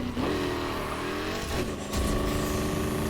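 Dodge SRT Challenger Demon engine in a racing video game, a steady loud drone with a shifting pitch that dips briefly, then picks back up with a fresh surge of revs.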